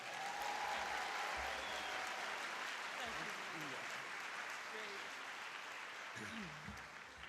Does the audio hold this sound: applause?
yes